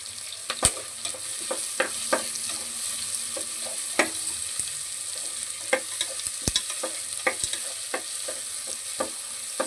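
Green chillies fry in a pan for a mushroom curry, with a constant soft sizzle broken by scattered sharp crackles and pops and occasional scraping stirs, close and moderately quiet.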